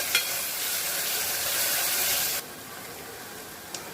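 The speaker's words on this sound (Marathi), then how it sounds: "आपला कांदा छान गोल्डन ब्राउन होईपर्यंत परतून घ्यायचा आहे।" Onions frying in a pressure cooker hiss in a steady, close sizzle that drops sharply in level partway through, followed by a quieter simmering hiss and a small click.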